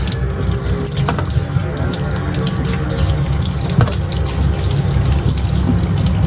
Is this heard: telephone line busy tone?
no